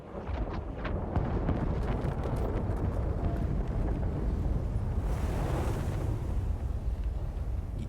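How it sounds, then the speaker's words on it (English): Rumbling explosions in the video game Frostpunk 2, a dense, continuous roar of booming blasts and crackling debris that stays loud throughout, sounding like an avalanche being set off. "Explosions?"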